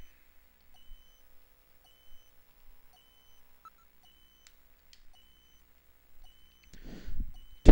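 A distinct timer beeping in Snatcher on the Sega CD, with faint, evenly spaced short beeps over near silence and a louder burst of noise near the end.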